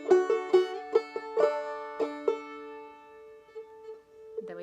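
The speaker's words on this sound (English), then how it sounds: "we repeat the section here that sounds like this." Clawhammer banjo playing a repeated section of the tune Duck River: several bright plucked notes in a quick rhythmic run, then a few held ringing notes fading out, close and clear with no voices.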